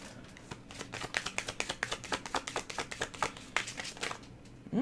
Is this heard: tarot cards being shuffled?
yes